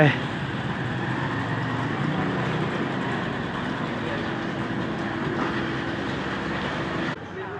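A diesel train passing on the railway at a Samut Sakhon line stop, a loud continuous rumble and rolling wheel noise that holds steady for several seconds then eases off.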